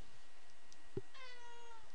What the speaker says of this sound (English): I apologise once more for the meows that you will hear.